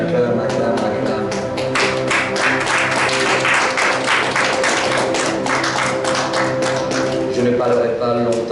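A church congregation at a Sunday worship service applauds and cheers loudly and continuously, a dense wash of clapping mixed with raised voices and a sustained musical tone underneath.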